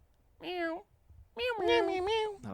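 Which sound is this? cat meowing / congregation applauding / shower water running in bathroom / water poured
cat meowing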